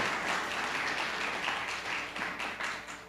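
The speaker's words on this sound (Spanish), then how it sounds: "Denle un aplauso al Señor." A church congregation applauds steadily throughout a ninth-anniversary service, with dense, sustained clapping that stays loud and even from start to finish.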